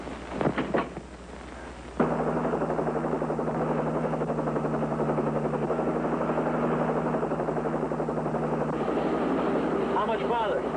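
A police patrol helicopter drones steadily overhead, its rotor hum loud and continuous after a brief burst of voices at the start.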